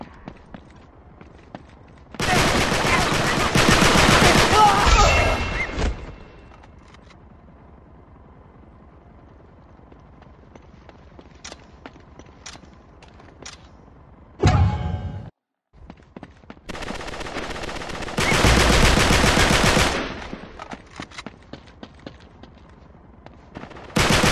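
AK-47 gunfire in the video game Uncharted 3 erupts in two long, loud sustained bursts separated by quieter stretches of sparse single shots and game noise.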